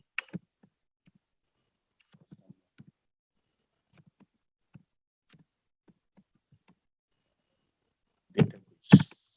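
A few soft, dry mouse clicks sit in near silence while building a customer database in Microsoft Access, ending with two louder, closer clicks.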